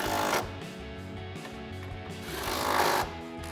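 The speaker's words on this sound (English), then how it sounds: "Grab our impact and 18mm socket and tighten those two down." An impact wrench with an 18mm socket runs down two bolts on a coil-over shock on a 2015-2025 Mustang, giving two short bursts of rapid mechanical hammering close by with no talk.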